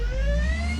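A steady car engine drone in a Roblox video game, a continuous motor hum with a slowly rising whine that holds at constant loudness throughout, with no voices.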